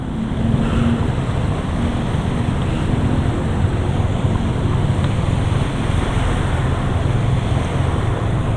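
A Honda Beat scooter wades through deep flood water, a loud, constant wash of churning water and low engine rumble with wind noise on the microphone, no voices.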